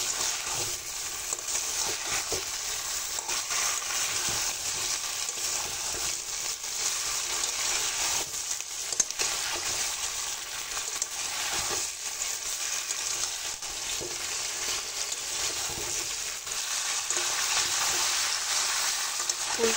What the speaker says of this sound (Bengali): ফুলকপি আমার মশলার সঙ্গে খুব ভালো করে কষানো হয়ে গেছে।